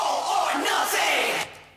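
Layered crowd of several people shouting together in a hard dance track production, a dense, loud burst of massed yelling lasting under two seconds before cutting off abruptly.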